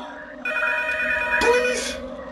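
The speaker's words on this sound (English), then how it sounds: "Pick up the phone!" A telephone bell rings insistently in the horror game P.T. (Silent Hill), a bright metallic trill that swells loud and close, with a voice shouting over it.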